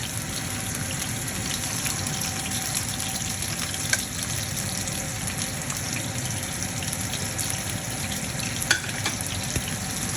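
An ingredient fries in a pan before silkworms are added, giving a steady, close sizzle and crackle with a few faint clinks, continuous throughout and with no talking.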